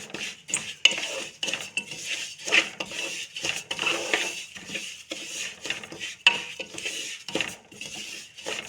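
Sesame seeds roasting in ghee in a pan, with repeated scraping and clinking of a spoon against metal as they are stirred, fairly close and continuous.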